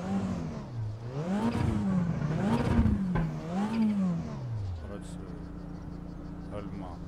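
Simulated race car engine in RaceRoom Racing Experience, driven with a homemade three-pedal setup, revs up and down in rising and falling sweeps for about five seconds, then settles into a steady idle hum.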